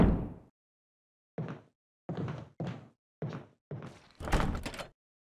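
A locked mansion door in Resident Evil HD Remaster gets tried repeatedly, giving a series of short, sharp metallic rattles and thunks in separate bursts with silence between, the last burst longer and brighter.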